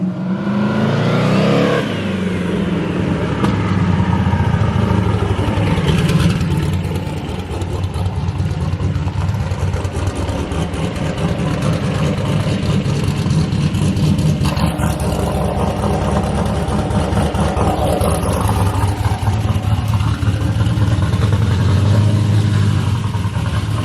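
An LS-swapped Ford Mustang's V8 engine running loud and close, a steady rumbling drone with rising revs and a throaty swell partway through, continuous throughout.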